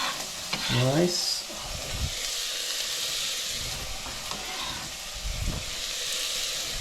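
Onions hit hot fat in a soup pot for a hearty mushroom soup, giving a continuous bright sizzle and crackle under stirring, with a short spoken remark near the start.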